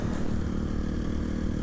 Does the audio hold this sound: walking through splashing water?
no